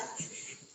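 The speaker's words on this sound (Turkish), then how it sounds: "Köpek mi?" A brief, faint dog whimper or wheezy whine, soft and close, lasting under a second against a quiet background.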